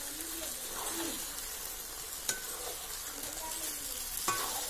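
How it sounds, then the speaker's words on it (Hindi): Roasted mutton is stirred with oil and spices in a pan on a village clay stove, giving a soft continuous sizzle with occasional sharp utensil clinks against the pan. A bird coos faintly in the background. "अब इसमें हम भुना हुआ मीट डाल दे रहे हैं और इसको हम ज़्यादा देर नहीं चलाएंगे"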